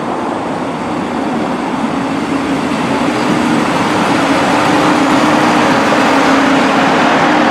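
A Transport for Wales class 150 diesel train pulls out of Telford Central, a loud close rumble and hum that builds steadily with a droning engine tone and rolling wheel noise.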